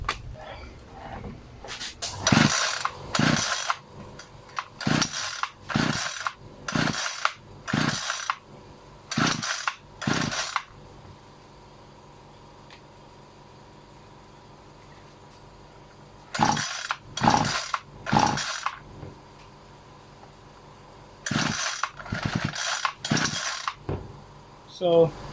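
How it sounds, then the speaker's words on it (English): A Ryobi RLT26CDSN string trimmer with a freshly rebuilt carburetor is pull-started again and again, each burst of rapid rattling cord pulls and engine sputters clustered in runs with long quiet pauses between them, and the engine never catches. "try to test the engine and tune the carburetor"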